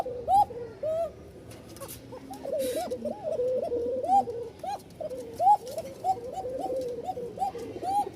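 A frightened Bashiraj pigeon repeats a thin, high cooing call over and over, close and clear, in short rising-and-falling phrases with no talk.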